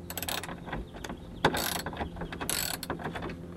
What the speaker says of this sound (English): With a 17mm socket, you can get the middle one with the socket,